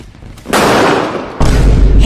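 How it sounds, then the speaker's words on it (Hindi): Two sharp bursts of loud crackling hiss, the second with a heavy low boom, close and harsh. "अब हमहू पटाखिया फोड़ ली।"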